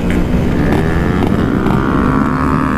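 An old Yamaha RX two-stroke motorcycle engine revs hard up close, a loud continuous raspy roar with a slowly rising pitch and some wind buffeting.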